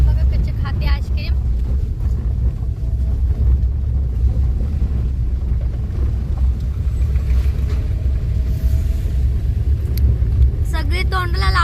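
A vehicle driven slowly gives a steady low engine rumble with wind buffeting the microphone, continuous and close throughout, with a few faint higher sounds near the end.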